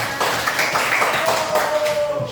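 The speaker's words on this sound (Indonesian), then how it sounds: "Tepuk tangan dulu dong buat teman-teman." A classroom of students claps for classmates, a brief burst of mixed hand clapping, close and moderately loud, with a faint voice and a tone in the background.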